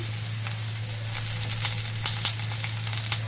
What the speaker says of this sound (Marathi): मी आता एका पाठोपाठ एक माझ्या सगळ्या भाज्या घालते. हे बीन्स घालते, कॅरेट घालते, कॅप्सिकम,